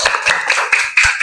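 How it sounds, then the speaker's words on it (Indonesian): A class of students claps their hands together in a classroom, a short burst of loud, close, slightly uneven claps with no talking over it. "Oke, tepuk tangan dulu."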